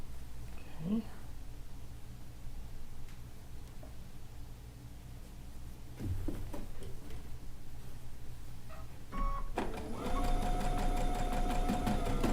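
Sewing machine stitching a stone log cabin quilt block over pins, a steady close motor hum that grows louder and busier near the end with soft needle ticking.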